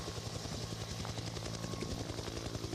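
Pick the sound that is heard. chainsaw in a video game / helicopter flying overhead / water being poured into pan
helicopter flying overhead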